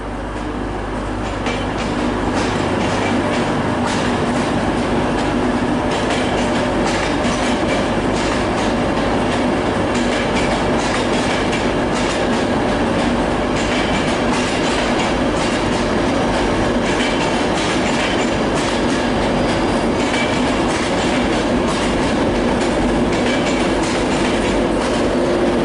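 A Virgin Trains East Coast service pulls out of Newcastle station on the East Coast Main Line, loud and close, with continuous rumble and rhythmic clickety-clack of wheels over rail joints throughout.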